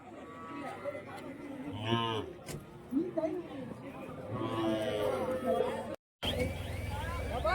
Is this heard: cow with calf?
yes